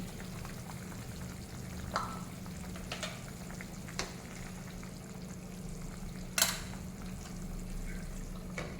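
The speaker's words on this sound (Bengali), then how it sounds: "তরকারির ঝোল খুব ভালো মতো ফুটতে শুরু করে দিয়েছে এখন দিয়ে দেবো ভেজে রাখা ফুলকপি" Thin Bengali vegetable and fish broth simmering in a pot, with fried cauliflower being added, gives a steady low bubbling hiss broken by a few soft clinks and splashes, one sharper knock standing out.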